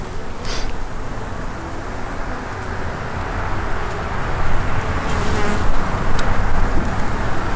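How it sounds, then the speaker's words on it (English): Honey bees buzz steadily inside an open hive as the colony is checked for queen acceptance, a dense continuous drone that swells slightly louder toward the end, with no voices over it. "But it's nice to see that these bees are quite active."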